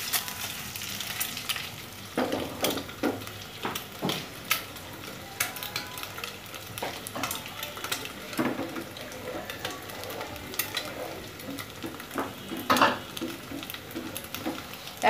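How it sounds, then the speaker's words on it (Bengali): Egg with chopped onion and garlic fries in oil with panch phoron, sizzling steadily while a utensil stirs and scrapes the pan in irregular clatters, close and moderately loud. "সঙ্গে ডিম আর পেঁয়াজ রসুন কুচিগুলো ফ্রাই করে নিচ্ছি।"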